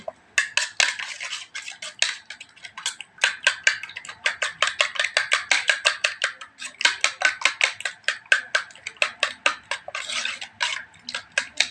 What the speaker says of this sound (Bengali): তারপর ডিমটাকে একটু ফেটিয়ে নেব